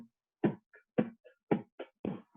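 A voice imitating a bass drum: four punchy low thumps at an even pace, each trailed by a softer clicky accent, alone and close.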